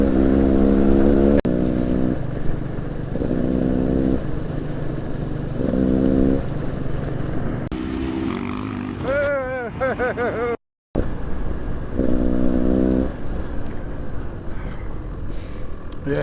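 A motorcycle is ridden briskly along a road, its engine droning and surging with steady harmonic pulses, strong wind noise throughout and a brief dropout near the end.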